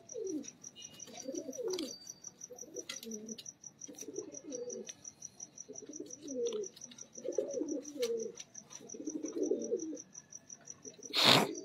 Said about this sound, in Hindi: ये जी 72 नंबर क्लासिकल कबूतर है